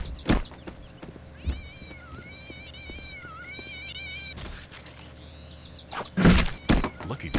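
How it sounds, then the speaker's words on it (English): In the Postal 2 video game, cats meow and yowl in a rising, wavering chorus as they drop from the sky, punctuated by heavy thuds and impacts. Someone speaks briefly over it. "Cats are falling from the sky."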